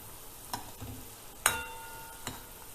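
Malabar spinach fritters fry in oil in a pan over medium heat, a low steady sizzle broken by a few sharp clinks and scrapes as they are turned, close and moderately loud with no speech.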